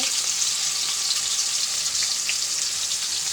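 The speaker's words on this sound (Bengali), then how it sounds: "কড়াইতে তেলটা দিয়ে নিচ্ছি, আলু দিয়ে ভাজে নিব।" Potatoes fry in hot oil in a wok, a steady bright sizzle with fine crackling that holds at an even level throughout, close by and with no talking.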